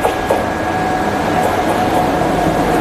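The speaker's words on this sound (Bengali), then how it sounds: "তো এই গল্পের জন্য আমাদের ট্রেন আসছে উত্তরবঙ্গ এক্সপ্রেস।" The Uttarbanga Express arrives at Bolpur Shantiniketan station with a steady, moderately loud rumble of a train. It carries a faint, sustained tonal hum and a busy platform backdrop, with no speech.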